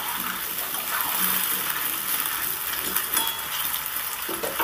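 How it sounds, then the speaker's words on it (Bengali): Diced potatoes frying in hot oil in a pan, a loud, steady sizzle that fills the whole stretch, with faint scraping and stirring underneath and no voices. "আলুগুলোকে সুন্দর করে লাল করে ভাজতে হবে।"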